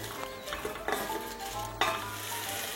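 Vegetables frying in olive oil in a pot on the stove, with a steady close sizzle and a few scrapes and clinks of stirring, no talking.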